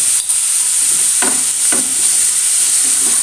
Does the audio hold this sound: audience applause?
no